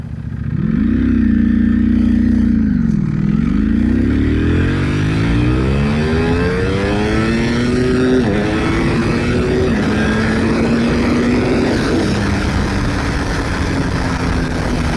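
A Ducati Panigale V4R motorcycle engine revs hard, dipping and climbing, then pulling steadily up through the range in a loud, close, continuous howl.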